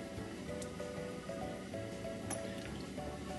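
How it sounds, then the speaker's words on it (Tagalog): Cooking oil pours into a cooking pot that was used to boil chicken, a faint, steady trickle with small drips, heard alone without talk. "Maglalagay lang tayo dito ng cooking oil."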